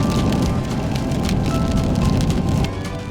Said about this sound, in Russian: а вот уже небо плачет дождем